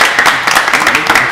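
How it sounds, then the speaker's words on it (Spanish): A crowd breaks into applause, a dense wash of clapping with some cheering voices mixed in, steady and fairly loud throughout. "Los aplausos, Smash. Los aplausos"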